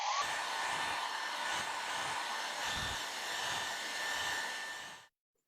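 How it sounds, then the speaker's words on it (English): A hair dryer blows loudly and steadily for about five seconds drying paint on a painting, then cuts off abruptly into silence. "So I'm going to use a hairdryer now and just get this to dry much quicker"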